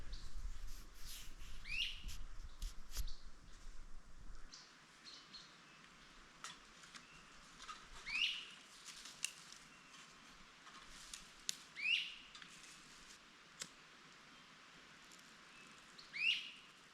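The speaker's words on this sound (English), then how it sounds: "Let me know if you know what kind of bird that is" A bird calls near a pond with short, sharp chirps repeated every few seconds, fairly faint and distant over a quiet outdoor background.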